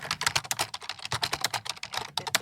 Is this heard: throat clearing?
no